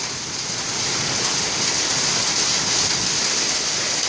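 Heavy rain pours down outdoors during a rainstorm, a steady, dense broadband hiss that holds even and loud for the whole stretch with no voices over it.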